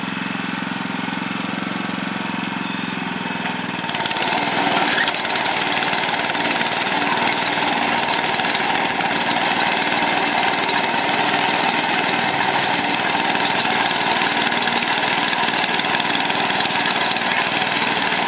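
A motorized sod cutter making the perimeter cut through garden sod: a steady, loud engine drone that steps up in intensity after a few seconds and then runs on evenly and close by, with no talking.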